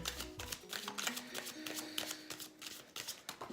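A glossy oracle card deck is shuffled by hand, a rapid run of crisp riffling clicks and flutters, close and fairly soft, with no voices.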